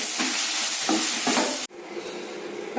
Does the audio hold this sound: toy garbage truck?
no